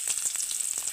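Chopped onions and mustard seeds fry in hot oil, a close, continuous sizzle dotted with small crackles and pops, with no voices.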